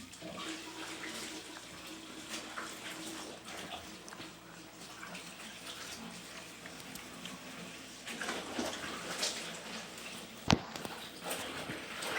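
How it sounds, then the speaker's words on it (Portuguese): A tap runs water into a large cauldron-like pot, a steady close rushing flow that grows louder and fuller toward the end, with a sharp knock near the close. "Abrir esse caldeirão para encher d'água e não encher."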